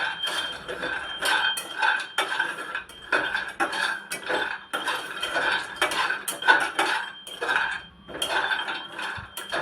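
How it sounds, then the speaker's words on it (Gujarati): Cashews being stirred and roasted in a metal pan, with repeated scraping clinks of a spoon against the pan in an uneven rhythm, close and fairly loud, no talking. "આવતા જતા કાજુને શેકી લેવાના."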